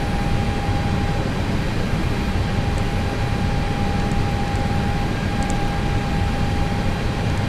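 An Airbus A320 takes off in X-Plane 11, a loud steady jet engine roar with a constant whine held throughout and no talk.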